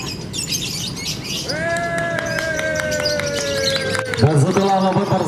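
A lovebird sings at a Bupati Cup bird song contest in Kulon Progo, giving a long sustained whistling trill followed by quick chirps, heard over a chattering crowd and an announcer's voice.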